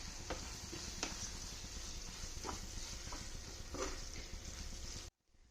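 Okra masala sizzles gently in a pan after coconut oil is poured in, a low continuous hiss with a few faint stirring clicks before it cuts off abruptly.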